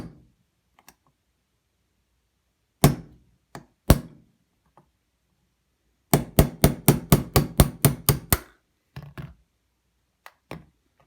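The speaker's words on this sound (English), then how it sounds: "I'm going to knock that pin out." Armorer's hammer striking a punch to drive a roll pin out of a Sig Sauer M17 pistol: a few isolated sharp metallic taps, then a rapid run of about ten evenly spaced blows, followed by scattered lighter taps, close and clear.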